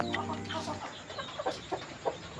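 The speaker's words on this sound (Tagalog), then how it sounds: "yung Black Australian at Rhode Island na rooster natin" Black Australorp and Rhode Island Red roosters with native hens cluck in soft, scattered bursts at a moderate distance, fairly faint, after a brief tonal call at the start.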